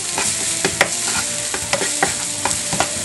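A browning sauté for manicotti being stirred in a nonstick skillet: a steady close sizzle broken by irregular scrapes and taps of the spoon over about three seconds.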